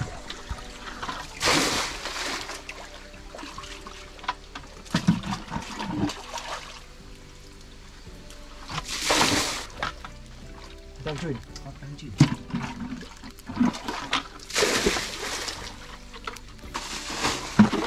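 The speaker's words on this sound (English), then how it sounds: "the water just started to come down" Water trickles and pours down a slope outdoors in rural Vietnam, coming in intermittent bursts of splashing flow between quieter gaps, with someone speaking over parts of it.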